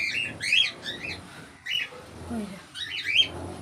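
Pet birds in an aviary call out in fear of a large snake that has got inside. Sharp, shrill squawks and chirps come in several bursts with short pauses between them, fairly close and loud.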